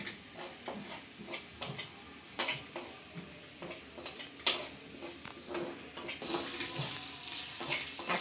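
Garlic, ginger and vegetables sizzle as they are stir-fried in a pan, with a spatula scraping and tapping in irregular strokes, close and moderately quiet.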